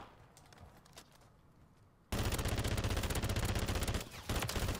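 A gun unleashes sustained rapid automatic fire in the Warzone 3 shooter game: after a quieter stretch of faint scattered shots, a loud, dense burst erupts and runs continuously, briefly dipping before resuming, with no talk over it.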